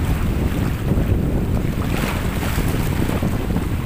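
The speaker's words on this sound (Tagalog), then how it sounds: "kaya po ganito po malakas po ang alon dito" Strong waves break against a rocky shore at low tide in Barangay Pagkilatan, Batangas City, during the southwest monsoon. They make a steady, loud roar of surf, mixed with heavy wind buffeting the microphone throughout.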